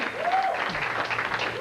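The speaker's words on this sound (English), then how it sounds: "let's have a big hand for the comedy stylings of Miss Susan Highland" Audience applausing for a comedy routine, a brief steady wash of clapping from a crowd, moderately loud and dense throughout.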